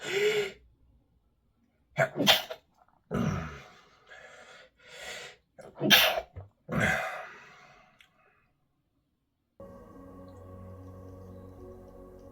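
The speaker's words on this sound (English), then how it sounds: "That was a big sneeze." A sharp sneeze-like burst among breaths and throat noises, followed after a pause by a steady low hum.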